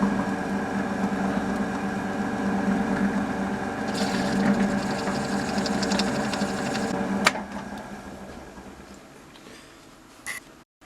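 A drill working out a rivet on a Dinky EV30 Express Dairy die-cast toy van, with cutting oil applied; a steady close whirring grind that ends sharply, followed by quieter handling and a couple of small clicks.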